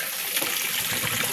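Water runs steadily from a tap, filling a basin to soak laundry: a continuous close gush and splash with no voices.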